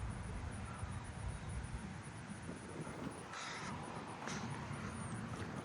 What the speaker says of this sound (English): Oh, there's a crow on top of that house.